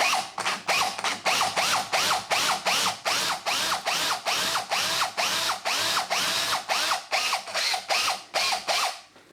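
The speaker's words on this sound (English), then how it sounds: "We're now going to enlarge that hole using a 12mm drill bit, but we're only actually going to drill halfway through." A 12mm bit drills halfway into a wooden door for an indicator bathroom bolt, running in a long series of rapid, evenly pulsed bursts with a ratcheting chatter, close and loud throughout.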